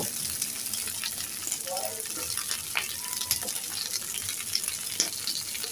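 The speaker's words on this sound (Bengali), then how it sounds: "তা আমি প্যানে কিছু পরিমাণ তেল দিয়েছি, এখন ঢেঁড়সগুলো দিয়ে দিলাম। তো হালকা কিছু লবণ দিয়ে আমি অনবরত নেড়ে নেড়ে কিছুক্ষণ ভেজে নেব।" Okra fries in oil in a pan with a light salt sprinkle, a steady close sizzle with occasional scraping stirs and small clinks.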